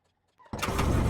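A car in a video game clicks as it unlocks, then the engine cranks and catches abruptly, settling into a loud, steady idle that fills the rest of the moment.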